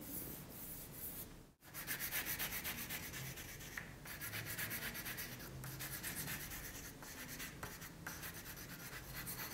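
A charcoal stick rubbed lightly across paper while drawing, steady soft back-and-forth scratchy strokes in a continuous rhythm with one short pause near the start, faint and close, no voices.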